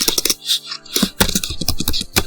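Rapid bursts of keystrokes on a computer keyboard, close and crisp, typing a game title into a search field, with short pauses between clusters of clicks and no talk.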